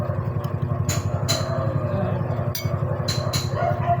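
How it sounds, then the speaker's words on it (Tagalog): A few sharp dog barks ring out over a steady low engine rumble nearby. "Yun ng mga aso."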